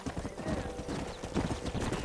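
In Red Dead Redemption, steady rapid clip-clop of horse hooves, dense and continuous, close up over a background wash.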